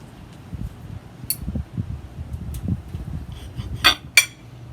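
Knife and fork cut into a grilled pork chop on a plate, giving a few sharp clinks and scrapes against a quiet background hum.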